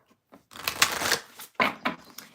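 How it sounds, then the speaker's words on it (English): Tarot cards are shuffled by hand in a few quick riffling bursts, the first long and dense, then two shorter, sharper riffles with brief pauses between, close and fairly loud with no talk. "All right, shuffle, shuffle."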